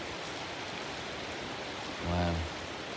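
Heavy rain pouring down in Maui, Hawaii, as a dense, constant hiss that fills the whole stretch, with a brief low tonal hum rising near the end; close and steady.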